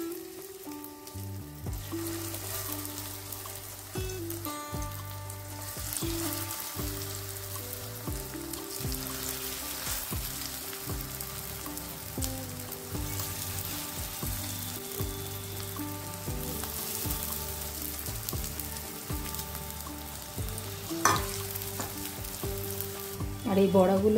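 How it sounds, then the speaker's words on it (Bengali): White water lily flower fritters sizzle steadily in hot oil, a dense continuous frying crackle with scattered pops and occasional utensil scrapes, fairly close and without talk. "এবার আমি এই শাপলার যে সাদা ফুলটা ছিল সেটা ভাজবো প্রথমে।"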